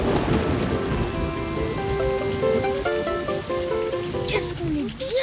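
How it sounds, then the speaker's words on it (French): Cartoon rain effect of steady rainfall outside a house, a continuous hiss running throughout under a gentle musical melody, with a brief swooping tone near the end. "Qu'est-ce qu'on est bien à l'intérieur quand il pleut dehors."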